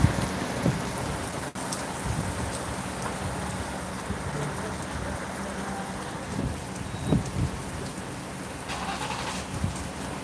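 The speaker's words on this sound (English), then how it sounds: "Look at the rain bands. Look how heavy that is." Heavy rain pours steadily during a squall-line thunderstorm in Dinwiddie, Virginia, a continuous loud hiss of rain beating on pavement, with wind gusts and a brief rumble, and no talk.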